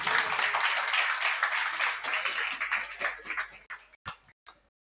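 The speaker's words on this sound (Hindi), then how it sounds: "एक बार जोरदार तालियां बजाएंगे" An audience at an interview event claps in an enthusiastic burst, dense at first and then thinning into a few scattered, separate claps before stopping.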